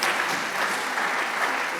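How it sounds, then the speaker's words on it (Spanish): Steady applause from a conference audience, a dense even wash of many hands clapping at moderate distance with no talk over it. "Yo pido un aplauso para el señor Subirón,"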